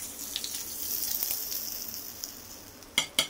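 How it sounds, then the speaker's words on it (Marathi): Soft sizzle and crackle of hot tempering poured onto curd rice, fading gradually, followed by two sharp clinks near the end; no talking. "ही फोडणी आपण छान या भातावरती घालून घेऊ."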